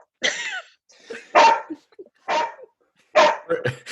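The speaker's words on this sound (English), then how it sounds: "I know that the dog's not part of the cast, but can we get rid of him?" A single dog barks in short, separate bursts, five or six close and fairly loud barks with quiet gaps between them and no talking over them.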